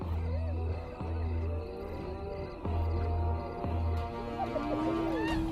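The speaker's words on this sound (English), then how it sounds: "the noise attracts a far more dangerous adversary, the males" Male lions give deep, rumbling roars in the wild during a confrontation with buffalo. The roars come in several low, heavy bursts, and fainter animal and bird calls sound in the background.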